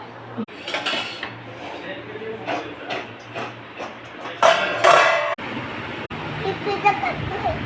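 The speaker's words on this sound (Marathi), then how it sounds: "आता हे झाकून ठेवायचं आहे." A lid goes onto a cooking pot with a few sharp metallic clanks, one louder clatter partway through, and people talking in the kitchen around it.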